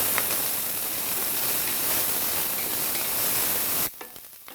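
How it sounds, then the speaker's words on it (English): Onions, garlic and de-seeded jalapeno fry in a pan with a loud, even sizzle heard up close, which stops abruptly near the end and leaves quiet room tone. "And I'm gonna fry this up for just about 3 to 4 minutes."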